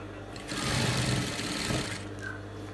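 A sewing machine stitching a senator placket, running in a single steady burst for about a second and a half before stopping, close and fairly loud over a low background hum.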